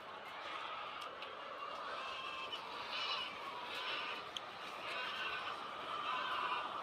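Calls from newly arrived roosters ring out repeatedly over a steady, busy background hum in Israel, with occasional sharp crowing-like cries rising above the noise.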